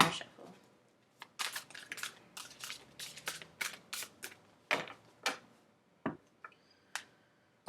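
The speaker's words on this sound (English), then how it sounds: "One more shuffle." Tarot cards being shuffled by hand: a run of crisp, rapid riffling snaps and flicks in quick irregular bursts, close and fairly quiet, with brief pauses between.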